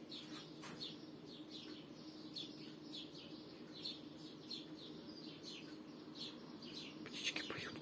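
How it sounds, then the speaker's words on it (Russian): Small birds chirp outdoors in repeated short, bright tweets that sound fairly distant over a steady low background murmur. "Птички поют, красота."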